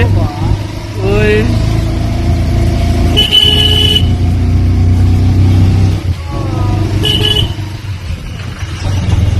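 Heavy traffic sits jammed with buses and cars on the Srisailam ghat road. Engines rumble continuously close by, and several sharp car and bus horn toots cut through. People talk over the din.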